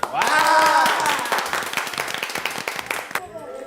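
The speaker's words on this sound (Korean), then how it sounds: "자, 우리 홍재에서 박수" Students and audience clapping for a classmate during a school lesson on voting, a brief burst of hand claps that starts strong and thins into scattered, uneven claps before stopping abruptly, with a tonal sound ringing at the start.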